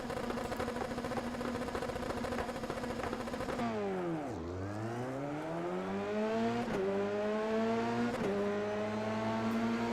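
Engines of Formula 3 race cars in a racing video game at Monza roar steadily, then drop and climb in pitch together as the pack launches from the start and accelerates through gear changes, loud and continuous.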